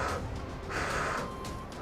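A voice imitates laboured, wheezing breathing, like a child with asthma struggling for air: a strained, hoarse drawn-in breath held close to the microphone.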